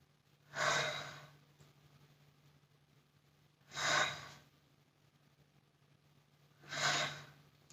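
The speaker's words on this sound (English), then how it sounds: "breathe in, breathe out, breathe in" Three slow, deep breaths during a stretching exercise, each a soft airy whoosh lasting about a second, evenly spaced about three seconds apart over a quiet low hum.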